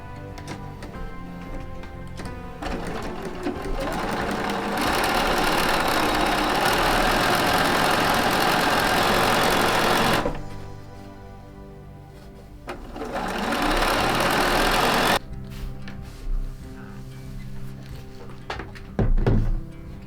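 A sewing machine stitches quilt blocks together with sashing and cornerstones, running in steady loud bursts with a pause in the middle and softer handling clunks around them; no talking.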